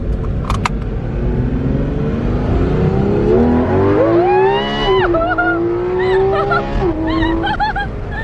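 A naturally aspirated sports car engine revs repeatedly toward 9,000 RPM, pitch sweeping up and dropping in quick bursts, loud and close, with a faint voice underneath.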